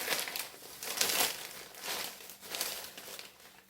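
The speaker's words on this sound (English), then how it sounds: "And then we're going to fold the bag down." A plastic bag is folded down with repeated close crinkling and crumpling bursts, several rustling pulses in quick succession at moderate loudness, with no speech.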